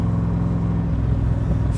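A 1965 Shelby Cobra Backdraft engine while driving, a steady deep rumble close and loud with no pauses.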